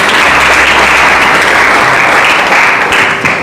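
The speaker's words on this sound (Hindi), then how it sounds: "एक बार ताली बजा के प्रभु की महिमा करो।" A church congregation at a Hindi-language service applauding together, a loud dense wash of clapping that fills the room steadily without pause.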